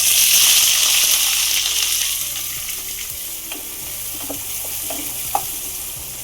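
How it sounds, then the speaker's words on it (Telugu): Chopped onion and green chilli pieces go into hot oil in a pan with cumin and dried red chillies, a loud, close, continuous sizzle that settles into a steady fry with a few stirring clicks and no voices. "ఇప్పుడు కట్ చేసి పెట్టుకున్న ఉల్లిపాయ ముక్కలు, పచ్చిమిర్చి ముక్కలు వేసుకోవాలి"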